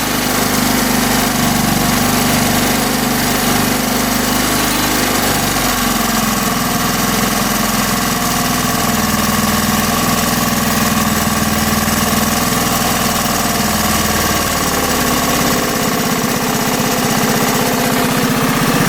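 An engine idles low and steady after its fuel screw is adjusted, with a cam chain in the top end: a constant, even mechanical drone with light vibration and no revving, running close and loud the whole time.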